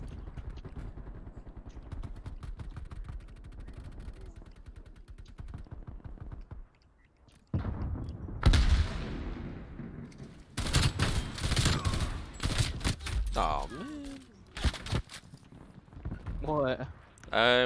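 A video game shootout brings rapid volleys of gunfire, some sustained and some in bursts, with clicks and footstep-like taps, while someone talks throughout over the action.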